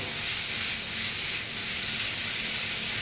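Steak sears in a hot stir-fry pan with a loud, steady hiss that stays even throughout and has no voices over it.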